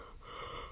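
A single drawn-out human yawn, a soft breathy inhale stretching into a low voiced exhale, close and fairly quiet with no talk over it.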